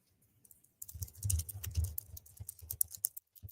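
Quick typing on a computer keyboard, a fast irregular patter of soft key clicks up close, starting after a brief quiet moment, with no talk.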